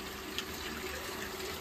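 Water from an electric motor pump running into a newly built water tank, a steady low trickling rush with a faint hum, constant and even throughout without speech.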